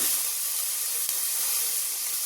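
Ginger-garlic paste or tomato sizzles in hot biryani oil, a steady, close, continuous hiss with a faint crackle and no other sound.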